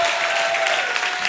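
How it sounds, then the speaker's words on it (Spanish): A church congregation applauding together, a dense, sustained wash of clapping that fills the space evenly and stays loud throughout. "Levanta tus manos y apláudele como Él se merece."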